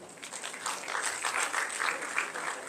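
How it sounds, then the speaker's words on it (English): Students at a university freshmen orientation applauding, a continuous crowd of hand claps with slight swells, fairly close and steady for a few seconds. "Once again, clap for the day"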